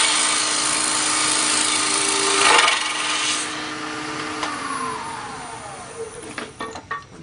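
A wood lathe spins as a spindle gouge cuts a coffee scoop, a continuous broadband hiss and whir with a brief louder swell, then the tone slows and fades into scattered light clicks and taps, with no talk.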